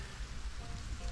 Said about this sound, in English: I know it's raining